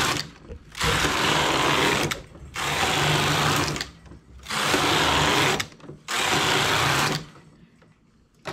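Sewing machine stitching slowly in four steady bursts of about a second and a half each, a close, loud mechanical whir separated by short pauses.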